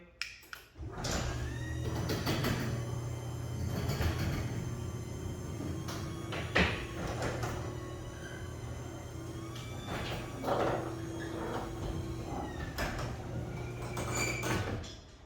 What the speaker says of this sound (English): let's go ahead and open and close the garage door and make sure it's functioning properly